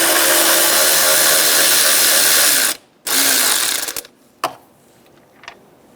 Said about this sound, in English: Using a 10mm socket, remove the bolt on the side of the fan.